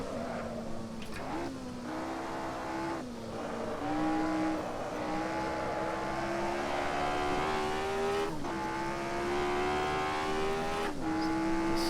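A historic Formula 1 car engine in Assetto Corsa screams loudly and continuously, its pitch climbing through gears with brief drops at each upshift, close and steady with no talk.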